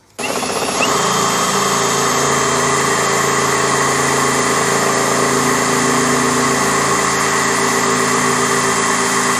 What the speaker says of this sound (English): So I'm going to drill another hole through here